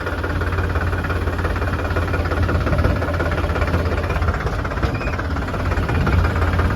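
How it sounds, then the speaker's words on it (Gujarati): A tractor engine runs steadily at a low, rumbling idle with constant knocking vibration, close and continuous throughout, with no talking. "આપણે ટ્રેક્ટર લઈને જવાનું છે ગામમાં"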